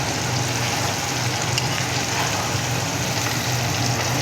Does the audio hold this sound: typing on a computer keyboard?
no